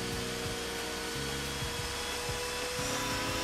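An Oshima Aspirovac cordless vacuum runs on carpet at high suction, giving a continuous close whining roar with a steady motor drone and slight shifts as it moves across the pile.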